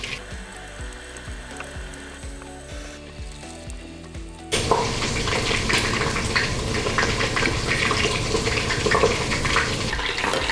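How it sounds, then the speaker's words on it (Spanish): Pork for carnitas sears in a pot, with a steady dense sizzle and crackle of frying meat that rises sharply partway through and holds loud to the end after some quieter clicking and clatter at the start. "ya casi termino de sellar toda la carne"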